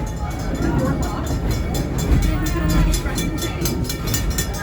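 Serengeti Express train ride at Busch Gardens Tampa, heard from aboard: a loud, continuous rumble of the moving train with rapid rhythmic clatter from the wheels and cars.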